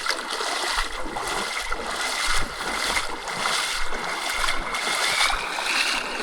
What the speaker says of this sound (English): Going to have to drag the board up the river a bit